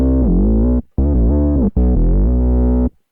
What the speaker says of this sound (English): a little bit of kind of acidy bass there